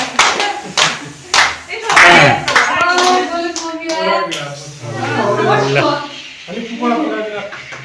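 A family birthday party with a round of hand clapping, several sharp claps early on and then scattered clapping beneath lively talking and children's voices, all close and loud.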